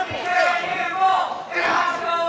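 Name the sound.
wrestling crowd cheering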